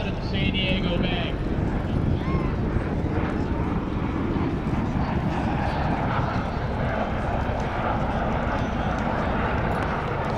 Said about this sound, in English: as the V-22s exit the bay to the west, get ready, because it's about to get quite loud in the San Diego Bay